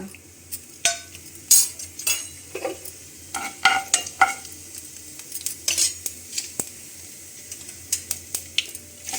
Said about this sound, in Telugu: ఆయిల్ వేసుకొని ఆయిల్ వేడయ్యాక ఆవాలు, జీలకర్ర,